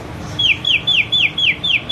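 A voice imitating a baby chicken: six quick, high, downward chirps in an even rhythm, close and fairly loud.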